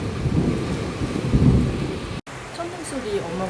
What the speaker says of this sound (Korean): 천둥 소리 어마무시하죠.